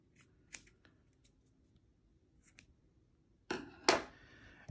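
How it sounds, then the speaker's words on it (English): Scissors snip through the frayed end of a paracord used on a dice bag. A few faint clicks and light handling noises come first, then two close, crisp cuts near the end. "then I cut the part that has been fraying"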